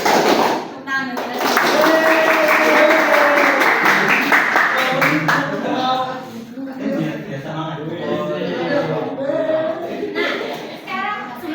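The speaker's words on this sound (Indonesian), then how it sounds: "Tepuk tangan dulu." A classroom of students claps during a micro-teaching lesson, a burst of busy hand claps near the start, followed by children's voices and chatter.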